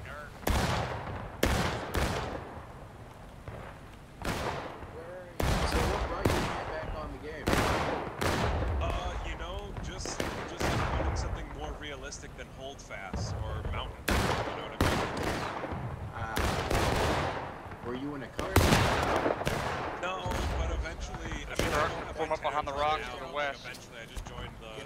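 Musket gunfire in the Civil War video game War of Rights, sharp loud volleys and scattered single shots cracking near and far in irregular bursts, with voices talking and calling between the shots.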